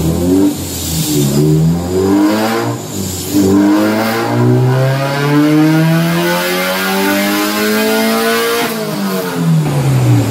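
A Honda Civic engine revs hard on a dyno, loud and close, its pitch climbing steadily through a long pull and then dropping sharply near the end before the engine settles at a lower note.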